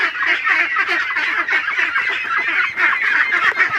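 A flock of 55-day-old farm ducks quacks continuously and close up, many overlapping calls forming a dense, busy chatter with no talking.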